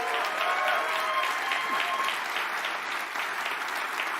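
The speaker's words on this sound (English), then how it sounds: "Can we give them a big round of applause?" Sustained applause from a crowd at the McLaren MCL60 Formula 1 car launch, steady clapping throughout at a fairly even level, no voices standing out.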